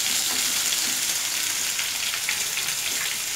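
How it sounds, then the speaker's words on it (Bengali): Raw green mango pieces fry and get stirred in a hot pan for chutney, giving a steady, loud, dense sizzle with light scraping from the stirring and no voices. "এবার আমি আমগুলো দিয়ে দিই, আমগুলো একটু নেড়ে তেড়ে নিচ্ছে"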